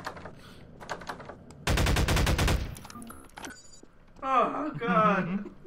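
Rapid automatic gunfire from a Garry's Mod co-op game cracks out in a dense, loud burst of about a second, set between stretches of players talking over game sounds.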